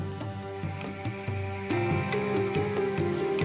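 Rain falls on the misty rainforest of Thornton Peak in Australia, a dense, steady patter of drops with distinct louder splashes, sounding close and continuous beneath a faint tonal hum.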